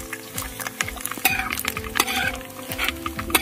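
Green chilies go into hot oil for a fish curry, a close sizzle broken by repeated spoon scrapes and light clinks against the pan over a low steady hum.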